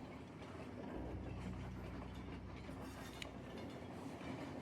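A toy Christmas train runs along its track with a steady low rumble and faint clickety-clack, continuous and fairly quiet, with no voices.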